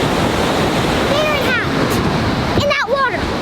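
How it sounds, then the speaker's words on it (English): The Rogue River rushes through Rogue Gorge in Oregon with a constant, loud, waterfall-like roar, while a few faint chirping calls rise above the torrent. "Sounds like a waterfall, kind of looks like a waterfall,"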